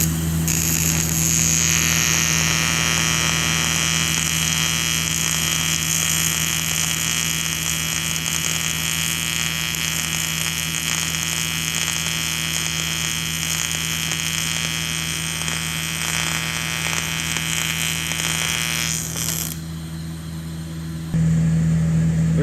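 Welding torch running a bead on aluminum, a steady loud electric buzz and hiss with an underlying hum, continuous for about twenty seconds before cutting off near the end, leaving a lower hum.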